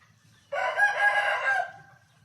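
A fighting-style rooster crows once, loud and close: a single long, bright cock-a-doodle-doo of just over a second over a faint low background hum, with no voices.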